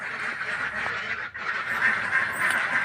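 Laying ducks on an egg duck farm, after their first moult, quack together in a dense, continuous flock chorus that stays fairly loud and close throughout.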